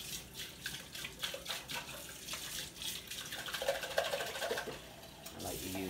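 Running hot water splashes and sputters over juicer parts as they are rinsed under a tap, with intermittent clatter.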